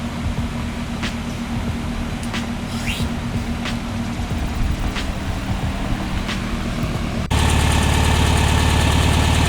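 A VW Beetle engine runs on an engine run stand, a steady, loud idle with a constant low rumble and faint ticking, shifting abruptly to a denser, higher-pitched running tone near the end.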